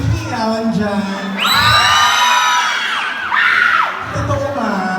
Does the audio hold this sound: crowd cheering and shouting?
yes